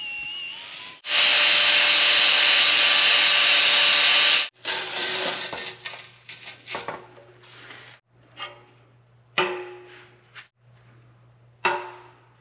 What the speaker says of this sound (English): I spent quite a bit of time cleaning all the paint and mill scale and everything off of these pieces